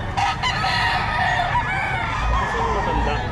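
A gold stag rooster crows and clucks close by over a busy outdoor backdrop, its calls blending with steady ambient noise and other birds.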